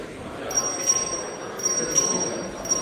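A small bell is struck repeatedly at a meeting, giving several bright, ringing strikes at uneven intervals over a steady hum of room noise.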